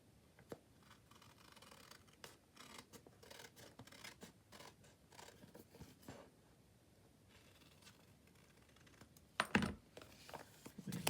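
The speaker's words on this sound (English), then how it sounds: "Now I'm just going to cut it off." Scissors snipping paper off an envelope that has designer paper mounted on it, giving soft scattered cuts and scratchy rustles at close range, with a louder handling clatter near the end.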